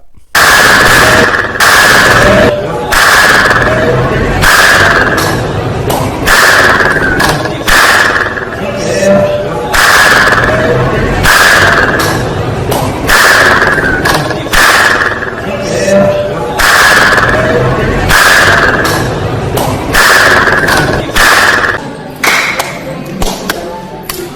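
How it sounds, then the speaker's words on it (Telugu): Sharp hand claps ring out in the clapping area of Golconda Fort, a repeated loud series of cracks, each followed by a short echo from the fort's stone walls, heard alone with no talk. "ఆ క్లాప్స్ రీసౌండ్ వచ్చి అక్కడ దాకా వినపడుతుందనమాట"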